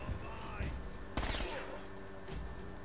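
Gunfire in the video game Uncharted, a short burst of sharp shots with one louder crack, heard under a person talking.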